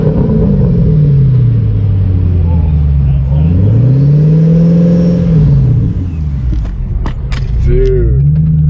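A McLaren 600LT supercar engine roars loudly and close, its pitch sweeping up and down through revs, with sharp crackles near the end.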